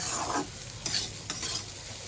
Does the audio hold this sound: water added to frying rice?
yes